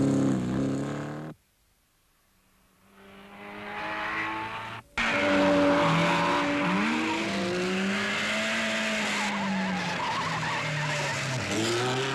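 Rally cars climb an uphill mountain stage with a Porsche among them, engine whine rising and falling, a brief lull, then a loud close pass with squealing, skidding tires and revving as the engine note sweeps up and down.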